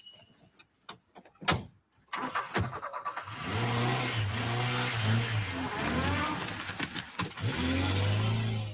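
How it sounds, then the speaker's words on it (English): A dark blue Ford Escort pulls away at speed from a town car park after a few sharp knocks and a door thud, its engine revving loudly and climbing through the gears close by. "the same witness saw them driving off at speed in a dark blue Ford Escort"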